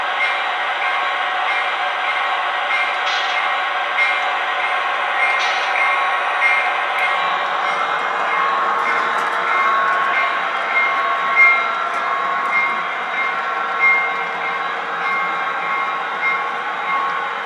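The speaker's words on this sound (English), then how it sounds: "The cars track very well, very smooth, no hiccups at all." Lionel American Flyer two bay hopper model train cars rolling along a toy layout track, giving a steady continuous rumble and whir with faint clicking at rail joints, running alone without talk.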